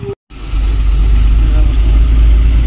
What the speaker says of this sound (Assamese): এখন পাথৰৰ গাড়ী আহি গ'ল।